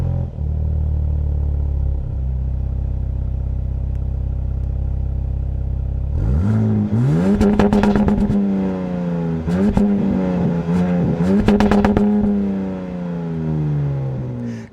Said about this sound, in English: Let's go ahead and fire it up so you guys can hear how it sounds real quick.